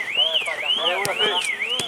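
A rising-and-falling electronic alarm wails in a steady repeating cycle inside a video game, loud and close, with brief thumps and a voice talking underneath.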